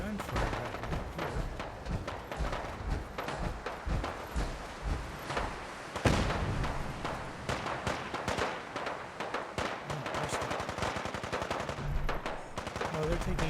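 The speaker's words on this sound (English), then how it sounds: "There's some gunfire happening here." Rapid bursts of automatic gunfire from the video game Fallout 4, dense and sustained, with repeated crackling volleys that swell in intensity partway through and continue steadily to the end.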